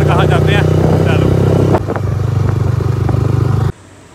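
A motorcycle pulls up and parks beside a temple. Its engine rumbles loudly and close while people talk over it, then shuts off abruptly near the end.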